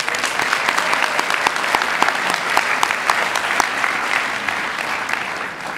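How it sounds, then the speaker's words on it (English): A community honors ceremony crowd applauds the Santa Cruz Sentinel, with dense, steady clapping and sharp individual claps standing out. It holds an even level for several seconds. "So how about a round of applause for the Santa Cruz Sentinel?"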